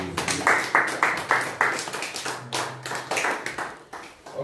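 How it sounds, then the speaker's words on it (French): A church congregation claps in acclamation of Jesus, steady rhythmic hand claps close and loud, about two per second, with a few voices rising over them. "On acclame Jésus."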